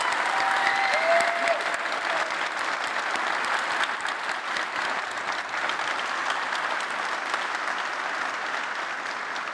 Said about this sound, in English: I kind of want to applaud right now,